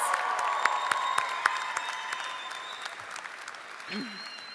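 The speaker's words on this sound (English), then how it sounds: "Let's have an applause." Graduation crowd applauding the Del Norte High School class of 2015, a broad sustained wash of clapping with sharp individual claps popping out, tapering slightly toward the end.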